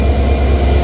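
The Silkcity Express rumbles past loud and close, a dense steady roar of wheels and carriages on rail with a faint squealing edge throughout the brief moment.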